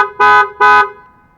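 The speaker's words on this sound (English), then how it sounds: "it makes honk, and your parking light blinks" A 1999 Jeep XJ alarm sounds two short, loud honks in quick succession, close by. A brief ringing tail fades after the second honk.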